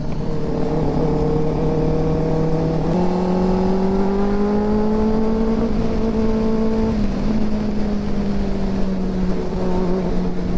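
A superbike on a ride through Meghalaya drones loudly and continuously, its engine pitch stepping upward as it revs and then easing back down near the end, with no voices over it.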